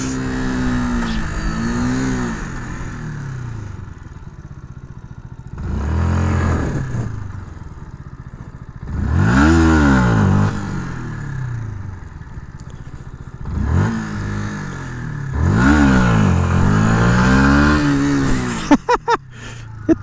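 A Yamaha MT-125 motorcycle revs up hard through the gears during a wheelie test ride, with four or five rising engine sweeps separated by short drops in pitch. The engine sounds loud and close, and a few sharp clicks come at the end.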